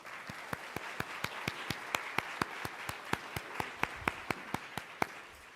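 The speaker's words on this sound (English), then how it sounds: "let's give them a round of applause" Faint, sparse applause at a civic event about a city's future: a few even claps fall in a steady rhythm, roughly four a second, quiet and thin rather than a full crowd.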